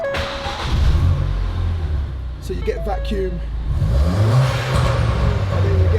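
A Ford Fiesta ST, a stolen car being rebuilt to stage 2 tune, runs close by with a low engine rumble and rises in revs, while someone talks over it.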